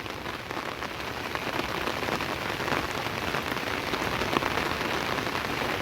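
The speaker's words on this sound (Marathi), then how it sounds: "पाऊस पण तेवढा जोरात पडतोय ना आणि कंटिन्यू पाऊस आहे" Heavy, continuous monsoon downpour beating down on surfaces near a flooding creek, a dense, loud, unbroken hiss of rain with no talk.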